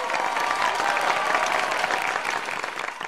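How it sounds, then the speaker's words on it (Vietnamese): Steady, dense applause from a studio audience at a televised singing competition, loud and continuous for the whole stretch, with no talking over it. "Thưa quý vị, một tràng vỗ tay ạ"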